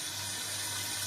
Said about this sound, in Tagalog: So lagyan pa natin siya ng konting tubig.